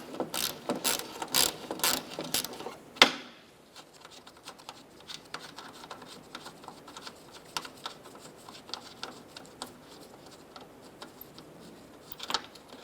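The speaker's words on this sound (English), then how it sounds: "We're going to go ahead and use our gear wrench, loosen, and remove that" A gear wrench ratchet clicks rapidly in short bursts while loosening a 10mm headlight bracket bolt on a Ram 1500, a sharp knock follows, then softer, sparser clicking continues close by.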